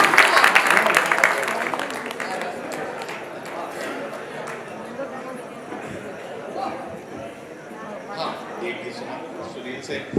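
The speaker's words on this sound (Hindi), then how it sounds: "जरा जोरदार तालियां बजाएं योगिता के" An audience at a Dussehra fair poetry recital applauds a poet named Yogita: a loud burst of crowd clapping at the start that fades into softer, scattered claps as a voice talks over it.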